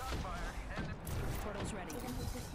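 Gunfire during an Apex Legends match on PS4, dense and continuous across a few seconds, with loud rapid shots heard up close.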